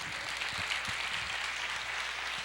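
Church congregation clapping during a sermon, a soft, distant wash of applause held at an even level throughout.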